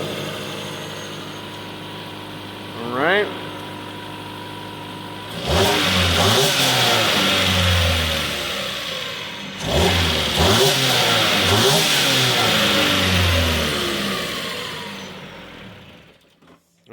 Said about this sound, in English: A little bit of a cold start there.